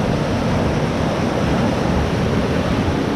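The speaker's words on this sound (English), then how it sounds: "So there's still a lot of water that's running down this estuary." Floodwater rushes steadily down an estuary swollen by heavy rain, with fallen trees nearby; a dense, constant roar with no pauses, loud and close, and no voices.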